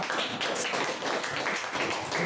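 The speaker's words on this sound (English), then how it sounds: "We should clap for her." A classroom of students claps for a fellow student, a dense, steady patter of many hands held at an even level from start to finish.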